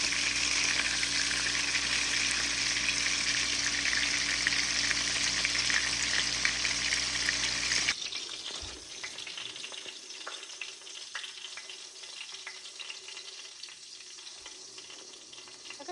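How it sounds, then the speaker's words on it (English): Salisbury steak patties frying in a pan give a loud, dense sizzle for about eight seconds, then drop abruptly to a much quieter crackle that continues alone. "Fry 3 to 4 minutes on each side until brown."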